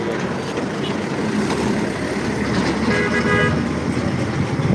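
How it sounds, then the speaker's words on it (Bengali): Busy roadside traffic at an outdoor shooting spot: a dense, steady roar of passing cars, trucks and motorbikes, with a car horn sounding prominently around the middle and faint voices beneath. "গাড়ির আওয়াজই তো মাথা নষ্ট করে প্রচুর আওয়াজ"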